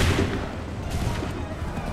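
Musket volley in the Assassin's Creed 3 video game, heard as a dense, rumbling burst of gunfire that blends into continuous loud battle noise across the whole stretch, with no clear separate shots.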